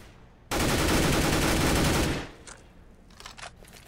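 Counter-Strike blind fire on the Mirage map during a professional match, a single loud, sustained automatic burst lasting about a second and a half, followed by a few faint distant shots.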